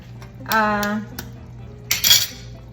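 A utensil scraping and clinking against a metal pot while egg is stirred into fish stew for sarciadong isda, two distinct bursts of close scraping and tapping.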